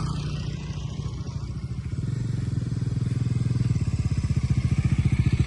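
A KTM RC 200 and a Bajaj Dominar 400 race on a narrow road, their engines droning close and steady, with the exhaust pulse growing louder and more rhythmic as the bikes rev up.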